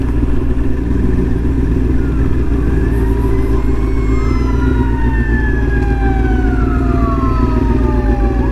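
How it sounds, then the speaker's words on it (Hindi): A fire engine siren wails along the Sea to Sky Highway between Vancouver and Squamish, heard from a motorcycle: repeated rising and falling sweeps at middle distance over steady engine and wind roar. "फायर ब्रिगेड आली आहे त्यामुळे दोन्ही साईडच्या गाड्यांना थांबायला लागतं."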